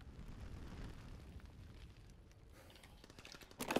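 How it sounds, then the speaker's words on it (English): Glide bomb explosion in Call of Duty on the London Docks map: a faint, distant rumbling blast that fades, then a short sharp burst near the end. "I'm gonna use my glide bomb"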